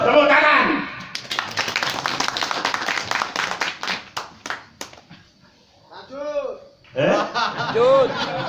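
Audience at a sermon clapping in a burst of applause with some chuckling, fading into scattered claps before a voice speaks again, fairly close and loud.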